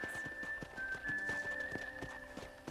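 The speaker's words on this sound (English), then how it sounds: "I picked out a fine horse for you." Horse hooves clip-clopping at a steady walking rhythm in the video game Red Dead Redemption, close and clear over a soft background hum with a faint whistle-like tone, no talking.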